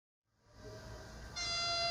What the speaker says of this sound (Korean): KTX 열차가 김제역 플랫폼으로 들어섭니다.